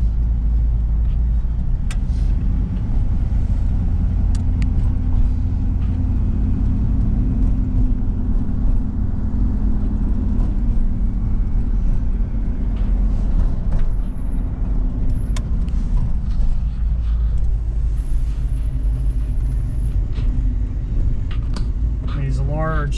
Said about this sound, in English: There's no problem pulling this car down the road.